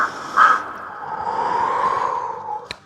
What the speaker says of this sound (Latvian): Vārna nolaidās zvirbuļu kokā.